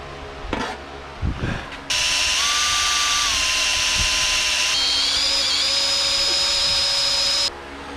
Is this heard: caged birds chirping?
no